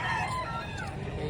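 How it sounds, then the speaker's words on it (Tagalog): A rooster crows at a poultry market in Padre Garcia, Batangas, with one drawn-out call near the microphone over a noisy background of market chatter and other fowl. "gandang manok nito"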